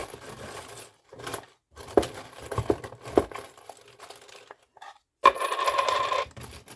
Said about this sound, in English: I'll pull charms here, and I'm just going to shuffle them around here